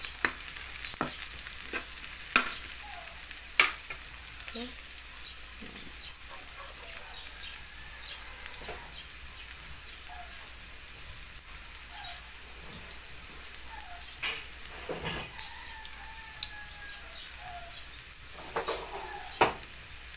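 Garlic and onion sautéing in a pan for ginisang monggo as boiled mung beans go in, a light steady sizzle with scattered stirring clicks and scrapes, close and moderately quiet, no talking.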